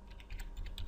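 Computer keyboard typing, heard close up as a quick, steady run of soft key clicks over low background hum, with no voices.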